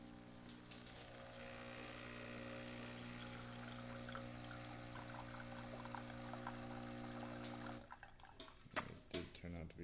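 A Breville Bambino espresso machine, just serviced, runs with a steady pump hum and a trickle of coffee pouring into a cup. It is faint and close, and ends in a few clinks and clatters.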